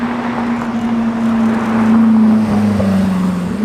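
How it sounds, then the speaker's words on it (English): A car passes in a flyby on a road in Monterey with a steady engine drone whose pitch sags slightly as it goes by, loud and close, the sound swelling toward the middle before easing off. "film some flybys of some cars"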